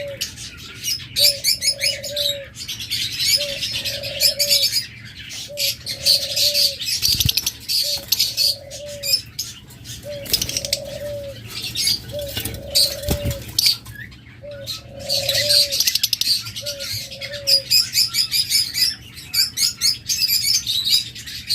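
Caged lovebirds, budgerigars, cockatiels and doves fill the air with dense high chirping, while a dove's low coo repeats in a regular rhythm about every two seconds beneath it.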